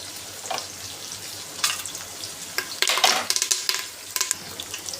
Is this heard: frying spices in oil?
yes